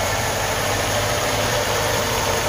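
A Moskvich 2141 car engine with an unadjusted carburetor idles with a steady mechanical rumble and slight wavering in its pitch, close and continuous, with no talking.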